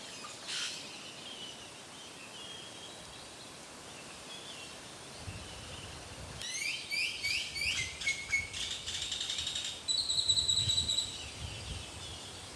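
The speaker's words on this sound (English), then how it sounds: "So many birds everywhere." Many birds chirp and call in a dense outdoor chorus in a mangrove forest, with quick high twittering bursts and scattered trills over a soft background hush.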